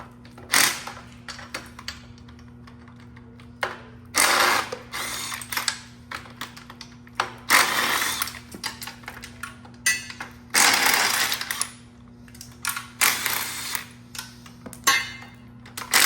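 A hand ratchet works a bolt loose on a Toyota Supra Mk4 2JZ engine, giving bursts of quick clicking pawl strokes separated by pauses, close and crisp over a steady low hum.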